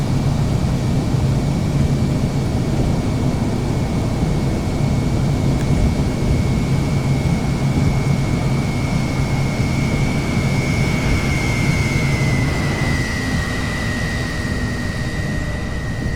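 An ATR turboprop airliner touching down on a runway with full reverse thrust, a loud, steady roar of engine and propeller noise with a sustained whine that shifts pitch near the end, heard from inside the cabin.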